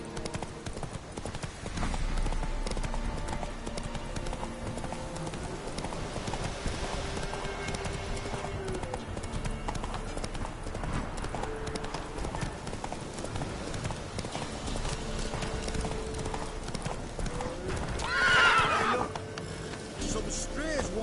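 Roach, the horse from The Witcher 3, gallops with continuous loud hoofbeats, a brief whinny near the end, and game music and ambience running beneath.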